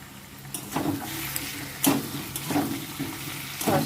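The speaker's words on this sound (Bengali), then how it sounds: "সসটা দিয়ে ভালো করে নেড়ে ছেড়ে নেব" Spices frying in oil with a little sauce being stirred in a pan, a steady close sizzle broken by several sharp scraping stirs of the spoon, no voices.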